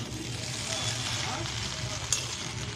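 Chowmein being stirred and mixed in a hot pan with added chowmein masala, sugar and roasted spice powder, giving a steady close sizzle with a few soft scraping strokes and no one speaking.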